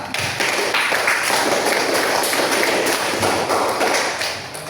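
A classroom of students claps for a group that has just presented, a brisk scatter of close hand claps and taps forming continuous applause that tapers slightly at the end.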